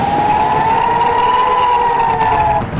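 An air raid siren wails during a missile attack in Israel, holding one loud, steady tone without a break and fading away at the very end.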